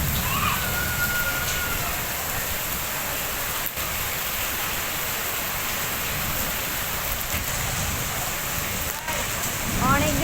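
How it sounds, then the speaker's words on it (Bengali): Steady rain falls on a wet street at dusk, a dense, even hiss that holds through the whole stretch with a few brief knocks and splashes near the end. "অনেকদিন পর বৃষ্টি পেলাম।"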